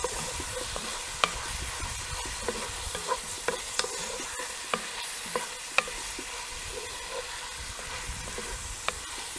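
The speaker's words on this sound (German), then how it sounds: "Das braten wir jetzt so lange an, bis die Zwiebeln blasig sind und wir den Knoblauchgeruch in der Nase haben." Onions and garlic fry in a Dutch oven with a steady, close sizzle, while a utensil stirring the pot adds occasional soft clinks and scrapes.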